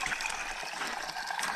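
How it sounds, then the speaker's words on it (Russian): Stream of cold water trickling into a garden pond, a steady close splashing babble that continues without a break for the whole stretch, with no voices over it. "И вот этот как раз ручей втекает в пруд."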